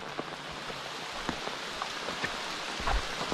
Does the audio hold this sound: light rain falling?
yes